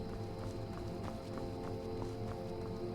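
A horse gallops up in The Elder Scrolls V: Skyrim with rhythmic hoof clip-clops repeating about every third of a second, faint and low in level over steady game background noise.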